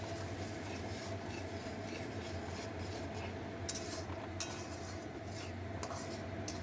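Spice paste for a Bengali fish curry being stirred and fried in a pan, with a steady low cooking hiss and scattered faint scrapes and clinks of a utensil against the metal.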